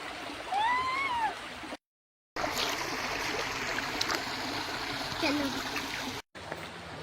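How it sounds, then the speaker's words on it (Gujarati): Steady rushing and gurgling of a stream deep in a dense forest, a continuous close wash of water with brief bird calls near the start and two short dropouts of silence. "ગાઢ જંગલની વચ્ચે એક સરસ મજાનું ઝરણું"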